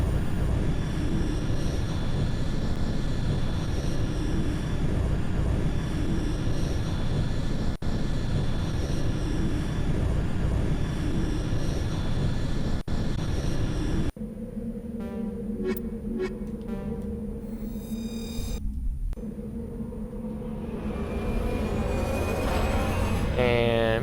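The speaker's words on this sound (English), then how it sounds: "I'm landing here." A spacecraft lands on a planet in the Mass Effect video game: a loud, steady roar of engine thrust for about fourteen seconds, then a sudden shift to quieter, layered tones and synthetic effects.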